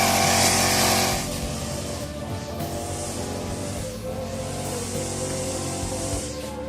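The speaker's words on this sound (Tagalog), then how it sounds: "Ito yung grass cutter ng mga idol oh." A gasoline grass cutter runs in a rural provincial yard, its engine giving a loud, steady buzzing drone that holds for several seconds with slight dips in pitch and no voices over it.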